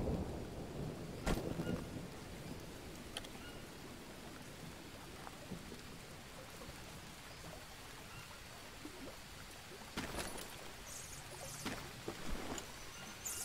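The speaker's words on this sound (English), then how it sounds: "Oh, I heard some thunder." Thunder rumbling in a jungle survival game under steady rain, with a sharp crack early on and another burst of thunder later, over a continuous wash of rain.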